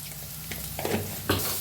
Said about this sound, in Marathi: चांगला कांदा भाजला आहे त्याच्यात टाकूया हळद अर्धा चमचा